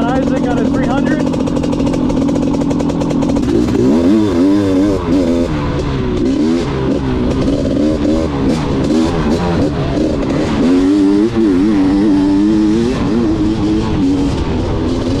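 A BRC 500 dirt motorcycle rides a trail, its engine droning loud and continuous up close while the revs rise and fall repeatedly under constant wind and road noise.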